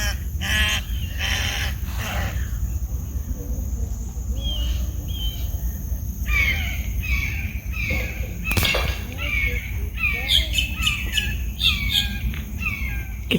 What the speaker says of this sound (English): You can hear that hawk.